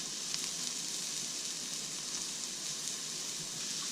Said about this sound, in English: We had it sizzling on side one.